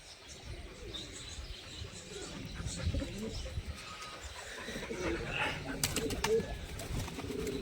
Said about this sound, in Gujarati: તો અલગ અલગ ટાઈપના બધા કબૂતર છે આમાં.